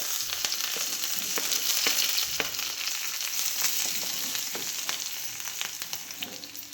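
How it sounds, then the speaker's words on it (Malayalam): Chopped ginger, garlic and green chillies crackle and sizzle in hot coconut oil for a Kerala egg curry, a loud continuous frying hiss broken by scattered sharp pops and a few scrapes of stirring. "വെളിച്ചെണ്ണ ചൂടായി വന്നിട്ടുണ്ട് അതിലേക്ക് നമുക്ക് ഇഞ്ചിയും വെളുത്തുള്ളിയും പച്ചമുളകും കൂടി ഇട്ട് കൊടുക്കാം"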